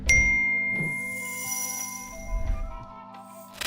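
A phone gives soft notification dings for incoming Facebook Marketplace messages, faint chimes over a steady tonal musical background with no speech.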